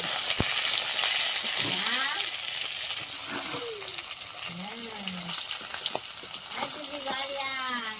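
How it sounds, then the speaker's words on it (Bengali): Fish pieces frying in a pan give a continuous loud hiss and sizzle close by, with occasional stirring knocks and a person talking over it. "মাছগুলো কিছুটা ভাজা হয়ে গেছে তুলে নেবো আর যেগুলো ভাজতে বাকি আছে ওইগুলোই দেবো"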